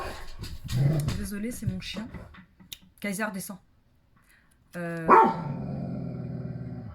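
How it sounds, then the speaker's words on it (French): A pet dog barks and whines indoors, close by, in short bursts with one loud, sharp bark near the end, mixed with someone talking. "Désolé, c'est mon chien."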